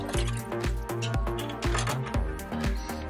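Oil, honey and water are stirred together in a container, giving a rhythmic series of wet squelching swishes, about six strokes, close and fairly quiet.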